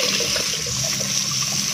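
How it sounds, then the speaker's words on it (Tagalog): A close, loud stream of water rinses white deposits from crevices of an object, an unbroken gushing splash lasting a couple of seconds with no speech. "Paswitan natin ng tubig"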